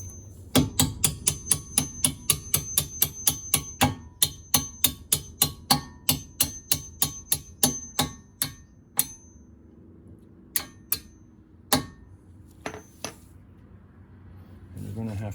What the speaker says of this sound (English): we can tap it in with a hammer